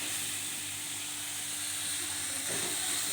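Tomatoes sautéing in a salted pan give off a steady, close hiss with no gaps, and a slight shift partway through as the food is stirred or moved.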